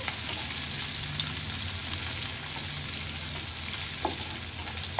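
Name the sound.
onion sautéing in a pan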